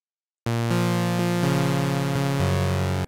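A Serum synth lead patch built to recreate a melodic house lead plays a short phrase of sustained, harmonically rich notes with a long release, loud and alone, notes changing every half second or so.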